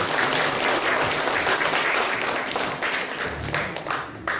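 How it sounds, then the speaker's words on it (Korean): A crowd of residents at a public redevelopment briefing session claps loudly and continuously for the panel, with dense applause throughout that thins slightly toward the end. "장시간 고생해주신 우리 패널분들께 다시 한번 큰 박수 한번 부탁드리겠습니다."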